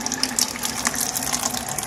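Water pumped by hand through a tube from a container for treating fish in a home aquarium, a steady close gushing flow that runs continuously and fairly loudly with no talk.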